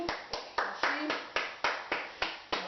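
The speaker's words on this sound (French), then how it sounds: "Ah, on peut applaudir." Audience applause for Nobel-winning astronomer William Matteo, heard as a rhythmic series of about ten sharp, evenly spaced claps, fairly close and clear with no talk over them.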